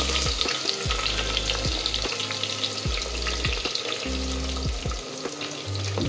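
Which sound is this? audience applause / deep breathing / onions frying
onions frying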